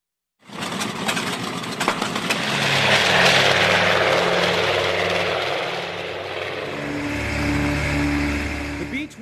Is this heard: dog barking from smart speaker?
no